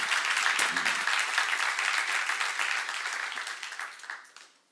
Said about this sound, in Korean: 박수 한번 쳐서 능히 이길 수 있기 때문에 준 겁니다.